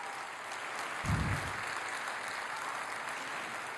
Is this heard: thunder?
no